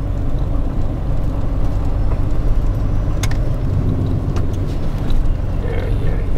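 A car is driven along a tight, narrow road lined with a guardrail, with a steady, loud engine and road rumble heard from inside the cabin and a few faint clicks and rattles.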